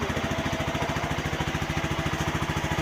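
A motorcycle engine runs steadily nearby with a fast, even low thumping pulse throughout, a new bike's idle shown off loud and close with no talk over it.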